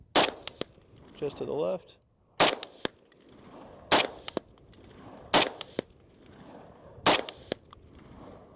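Rifle shots fired at a steel target about 115 yards away on a rock, five sharp loud reports spaced a second or two apart, with brief talk between shots.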